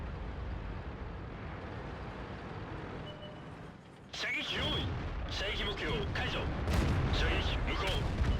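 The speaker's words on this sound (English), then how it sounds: "Tries a snapshot on the Wheezy, unfortunately just bounces off" Tank cannon shots ring out in World of Tanks, with a T-54, a VK and a Wheezy in battle; muffled game rumble gives way to sharp bursts of gunfire and clanging hits while a commentator talks over them.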